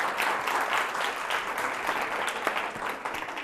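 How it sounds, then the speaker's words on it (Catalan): Studio audience applause on a Catalan spelling game show, dense continuous clapping with sharp individual claps throughout, loud and sustained for several seconds. "et fem aquest aplaudiment del públic"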